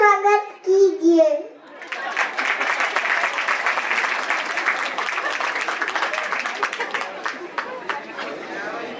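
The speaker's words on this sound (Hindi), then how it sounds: "जोरदार तालियों से स्वागत कीजिए" A children's voice briefly sounds before an audience at a school annual day function bursts into steady, lively clapping that continues to the end, with chatter mixed in among the crowd.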